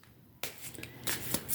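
A deck of telepathy oracle cards is shuffled by hand, giving sharp riffling bursts and soft flicks close up, with no talking.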